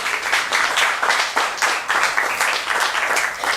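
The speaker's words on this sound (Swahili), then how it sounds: "Hebu kwa ajili tu basi ya Yesu tuweke makofi hayo mazuri sana" A church congregation at a Friday service claps in bursts of rhythmic applause, close and lively, with repeated swells of hand-claps across the short stretch.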